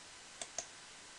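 Two quick, faint computer mouse clicks in close succession, isolated against a quiet background hiss.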